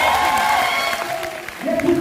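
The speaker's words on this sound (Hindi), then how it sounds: "जोरदार ताली जरूर बजाइए।" A seminar audience in Patna claps briefly, a short burst of scattered applause mixed with crowd murmur and a voice over it.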